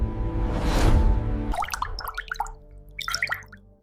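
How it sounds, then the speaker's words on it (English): Water drops dripping and plinking one after another into water, bright and close, coming after a swelling whoosh and falling at an irregular pace. "Imagine a drop of water."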